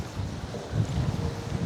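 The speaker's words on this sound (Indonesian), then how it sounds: "Ini anginnya lumayan kencang." Strong wind buffets the microphone at a ferry harbor, a low, steady rumbling roar that stays close and fills the whole short stretch, with no talking.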